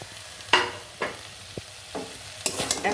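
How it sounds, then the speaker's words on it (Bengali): A spoon stirs fried carrots and beans into a pot of chicken egg noodle soup, giving several separate scraping strokes over a low sizzle, close and clear. "একসাথে সব কিছু খুব ভালো করে নাড়িয়ে দেব।"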